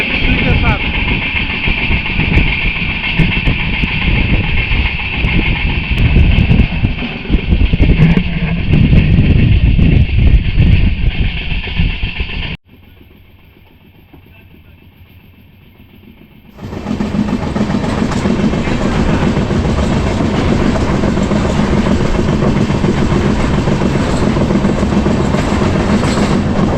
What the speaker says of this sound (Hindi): लगता है एक गुड्स ट्रेन है WAG9H3 के साथ।